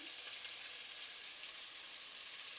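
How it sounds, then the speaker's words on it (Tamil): Ginger garlic paste sizzles in a pan for coconut chicken biryani, a steady bright frying hiss, close and fairly quiet, with no talk. "இஞ்சி பூண்டு பேஸ்ட் சேர்க்குறோம்"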